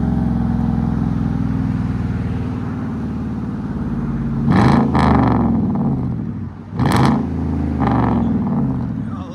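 A 2014 Chevy Silverado 5.3L V8 with true dual straight pipes idles with a deep, loud rumble, then is revved twice in sharp bursts before settling back to a throaty idle.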